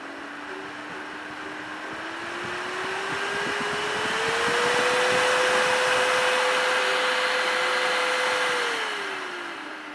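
Small fans driven by an NE555 PWM speed regulator give a steady whirring hum whose pitch climbs, holds and then falls slightly as the speed changes. The sound is close and alone, with no talk.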